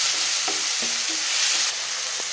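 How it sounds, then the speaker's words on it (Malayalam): Onion and tomato with salt sautéing in a pan for a Kerala coconut egg masala curry: a steady, close sizzling hiss runs throughout, broken by a few soft spoon scrapes and taps as the mixture is stirred. "ഇത് 1 മിനിറ്റ് നന്നായിട്ട് വഴറ്റണം"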